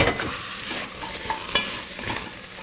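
Thin-sliced onions caramelizing in a pan while being stirred, a close crackling sizzle with several soft spatula scrapes and clicks over a few seconds, no voices.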